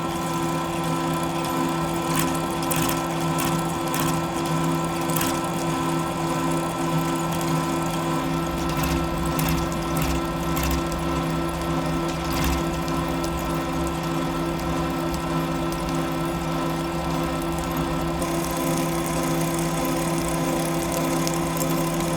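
A heavy lathe cuts 4140 steel at 144 RPM with a half-inch depth of cut, a steady loud mechanical drone with humming tones and a grinding cutting noise that holds throughout.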